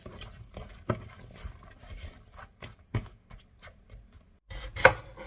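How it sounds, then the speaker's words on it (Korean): A knife slices eggplant flat into medium pieces on a cutting board, giving a series of irregular chopping knocks with short pauses and a louder cluster of cuts near the end, close and without talk. "가지는 중간 크기로 납작하게 썰어서 소금 한 티스푼 넣고"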